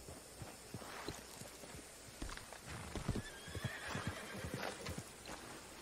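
Horse in the Red Dead Redemption 2 video game, with repeated hoof clip-clops and snorting or neighing vocal bursts at moderate level over a low hum.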